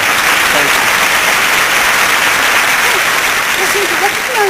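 Sustained audience applause fills a televised comedy hall of fame induction ceremony from 1993, a dense, steady roar of many hands clapping at a constant level throughout, with faint voices underneath.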